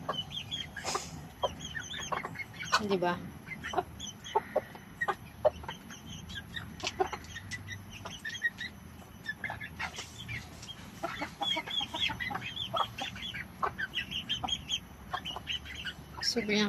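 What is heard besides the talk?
chickens clucking in a backyard coop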